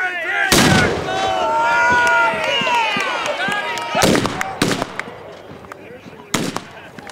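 Pirate cannon fired by costumed privateers at an outdoor Renaissance fair: a loud close blast opens, with further sharp bangs later, under shouting crowd voices and lively outdoor chatter.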